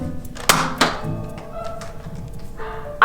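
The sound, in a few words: shot hitting a target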